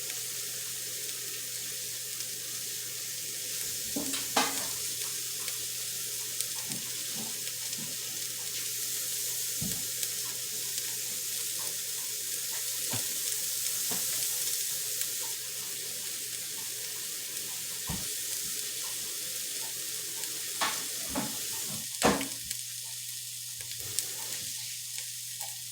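Tap water runs steadily into a kitchen sink while potatoes are washed, a constant close hiss broken by occasional knocks and clunks, with no talk.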